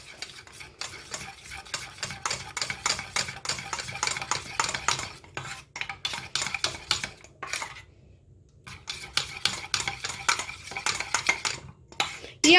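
A herbal Neelibringadhi hair oil mixture being stirred in a vessel, with rapid repetitive scraping and clinking of a utensil against the container, pausing briefly mid-way before resuming.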